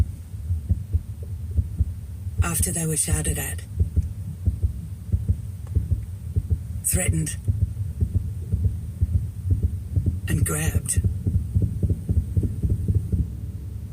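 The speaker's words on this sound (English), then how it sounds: "This is the sound of a nurse's heart rate" A heartbeat sound effect in an advertisement, presented as a nurse's heart rate, thumps steadily and fairly fast under a low hum, broken three times by short bright noise bursts while a voice speaks.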